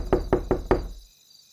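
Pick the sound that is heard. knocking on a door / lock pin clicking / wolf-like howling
knocking on a door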